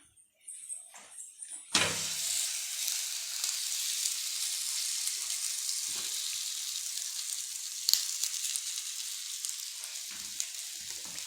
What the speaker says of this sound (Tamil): இப்போ வந்து தோசைக்கல் சூடாக இருக்குது, தோசைக்கல் போட்டுக்கணும்.